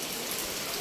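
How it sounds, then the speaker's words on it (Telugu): Rain starting to fall after thunder and wind makes a dense, even hiss of drops with no breaks, close and fairly loud for a brief moment. "వర్షం అయితే స్టార్ట్ అయింది."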